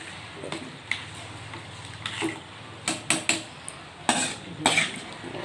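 Spices stirred into chicken mince khichuri in a pot: soft scraping and clinks of a metal spoon against the pot, with a few brighter knocks and a low background hum, close and fairly quiet.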